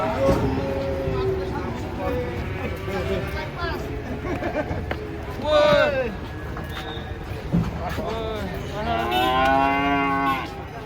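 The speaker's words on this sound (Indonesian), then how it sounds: "Rombongan sapi pada datang guys." Several large cattle unloaded from a truck moo, long drawn-out lows near and farther off, while people chatter in the background.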